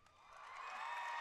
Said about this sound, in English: Crowd responding to Grushka, Sweeney, and Watterson.